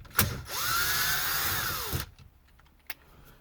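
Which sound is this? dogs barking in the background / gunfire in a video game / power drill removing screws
power drill removing screws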